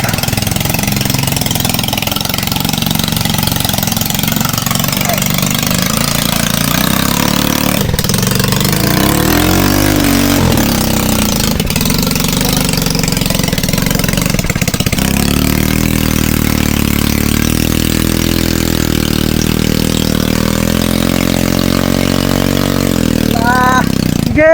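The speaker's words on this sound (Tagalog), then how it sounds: "Tibay ng motor na ito." A motorcycle engine runs steadily throughout, loud and close, with a farm setting around it; the tone shifts slightly partway as the engine settles into a lower, even drone.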